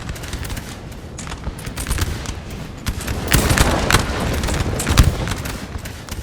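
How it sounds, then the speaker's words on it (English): Artillery and musket fire in a Napoleon Total War multiplayer battle at Dennewitz, with repeated booming cannon shots and crackling volleys layered thickly, growing louder midway through. "Artillery is firing"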